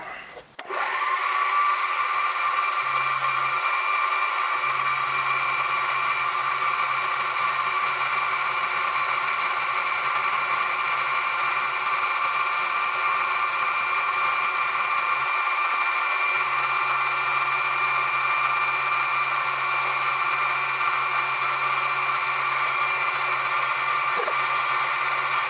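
A power tool fitted with a chamfer bit spins up and runs with a steady, loud, high whine while cutting a chamfer on a metal part in a home workshop, continuing almost unbroken with faint low rumbles beneath.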